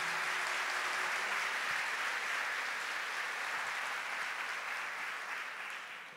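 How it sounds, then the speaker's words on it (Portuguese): A large audience at a Catholic religious talk applauds loudly and steadily in a dense wash of clapping that holds for several seconds before easing off slightly at the end. "Gente, pode aplaudir forte."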